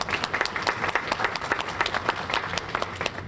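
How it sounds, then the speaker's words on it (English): Audience applause at the opening session of an educational access conference, a steady wash of many hands clapping at moderate volume, with no voices over it. "He deserves applause for that."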